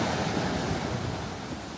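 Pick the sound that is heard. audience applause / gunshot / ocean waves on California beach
ocean waves on California beach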